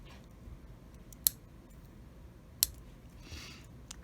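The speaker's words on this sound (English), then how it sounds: "we will go ahead and then cut away these excess pieces here" Wire trimmed away from a wire weave gives two sharp, crisp cutter snips a little over a second apart, isolated against a quiet background.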